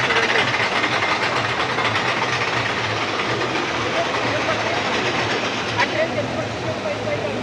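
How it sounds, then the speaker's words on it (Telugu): Amusement park ride train approaching at Wonderla in Hyderabad, a continuous rumbling, rattling mechanical drone at steady loudness, mixed with crowd and background chatter. "ఆ ట్రైన్ వస్తుంది ఇప్పుడు ఇక్కడికి"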